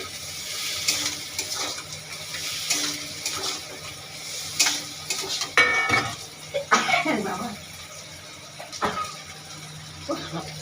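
A spoon clinks against a cooking pot while poppy seed paste is stirred into ridge gourd and potato, followed by a splash of water being poured in. Someone talks throughout, with irregular scrapes and taps at moderate loudness.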